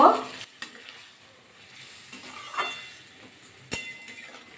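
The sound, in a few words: stirring beans and potatoes in a pan with a little water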